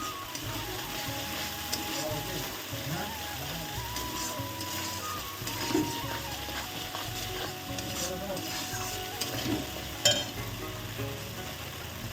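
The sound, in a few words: dried red chillies sizzling in oil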